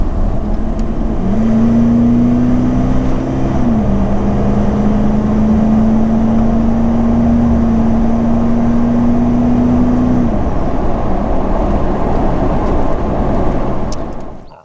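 A Toyota LandCruiser 200 Series V8 fitted with a Manta aftermarket exhaust accelerates from 60 to 100 km/h, giving a loud, steady engine drone whose tone climbs, dips briefly, then holds as speed builds.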